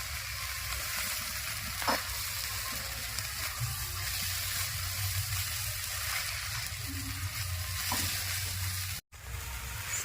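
Kalmi greens, freshly washed and wet, being stirred in an uncovered pan, giving a soft continuous sizzle with a few light scraping stirs and a brief cut near the end.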